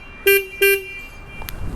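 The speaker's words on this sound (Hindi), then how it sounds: "उसके ठीक नीचे रहा हॉर्न," Two short, loud honks from the horn of a Husqvarna motorcycle, close by, each lasting about a tenth of a second, followed by faint background noise.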